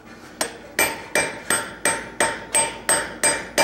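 Blacksmith's set hammer tapping on hot metal at a smithing conference demonstration, nine sharp, evenly spaced metallic strikes about every third of a second, close and ringing, with no voices.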